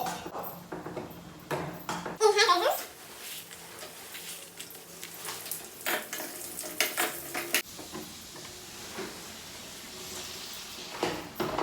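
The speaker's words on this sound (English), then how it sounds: "Fried cashew nuts." Cashew nuts fry in hot ghee with a steady sizzle while a spoon stirs and scrapes the pan, a sharp clatter near the start, then continuous bubbling frying sounds with no voices.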